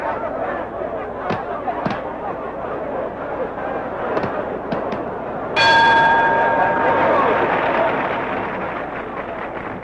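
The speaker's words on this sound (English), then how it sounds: "And it's a blessing when the bell goes." Round bell rings at a vintage world featherweight championship boxing fight, a sharp metallic clang that rings on over crowd roar, preceded by scattered thuds and noise, with a commentator speaking.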